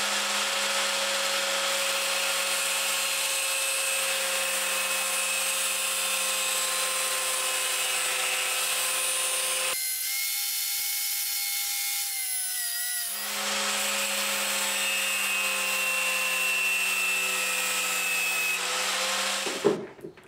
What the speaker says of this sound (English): what we're going to do next is grind it clean, grind it pretty, and in the case of this one, grind it square again